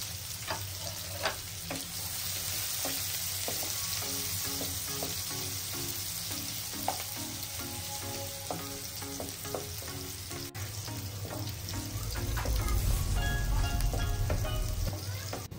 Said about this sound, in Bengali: পাত্রে থাকা অবশিষ্ট তেলের মধ্যে আরও কিছু পরিমাণ তেল যোগ করে আমরা পেঁয়াজ কুচিগুলো দিয়ে সুন্দর মতো নাড়াচাড়া করে পেঁয়াজগুলো ভাজি করে নেব।